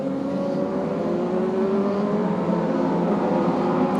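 Race cars lap the Road Atlanta circuit in a distance-softened, steady engine drone, several machines blending into a continuous layered roar that shifts gradually in pitch, with no one speaking.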